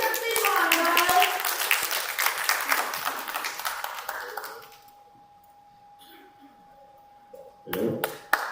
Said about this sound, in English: Please, a round of applause. Make it a big one, guys.